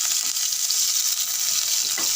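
Tempering of mustard seeds, urad dal, dried red chilli and curry leaves sizzling in hot oil, a steady bright crackle with scattered pops, close and loud, with no talking.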